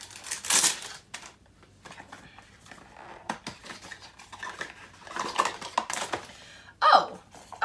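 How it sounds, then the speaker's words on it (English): Crinkly plastic packaging of a loose face powder being torn and opened by hand, quiet irregular rustles and taps scattered across several seconds, with a few louder crackling bursts near the start and end. "let me open the packaging"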